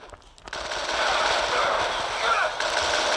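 Heavy artillery fire in the Transformers Decepticons video game, a dense sustained roar of blasts and rumbling that swells after a brief quieter opening and stays loud throughout.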